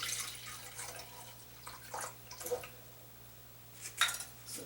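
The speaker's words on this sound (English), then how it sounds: "we're going to pour some of this into our Vitamix" Soaked chia seeds are poured into a Vitamix blender, giving faint wet plops, drips and a few small clinks of the container in an otherwise quiet kitchen, with no talking.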